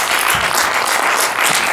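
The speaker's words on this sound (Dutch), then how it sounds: "Ik geef nog een groot applaus." A large audience applauds loudly and continuously, a dense wash of clapping filling the whole moment.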